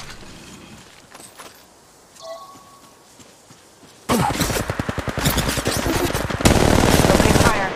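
Rapid automatic gunfire from the mobile battle royale game Apex Legends Mobile erupts loud and close after a few quieter seconds, continuing in dense rattling bursts that grow even stronger near the end.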